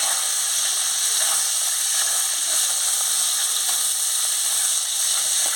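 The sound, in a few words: small fish frying in a pan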